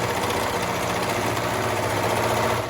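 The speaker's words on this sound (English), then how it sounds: "I'm going to hold on to where I started sewing, and we're going to continue our seam allowance" A sewing machine runs steadily while stitching a seam on baby leggings, a continuous close mechanical whir with rapid needle vibration and no pauses throughout.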